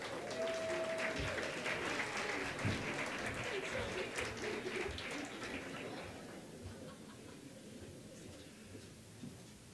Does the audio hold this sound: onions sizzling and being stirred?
no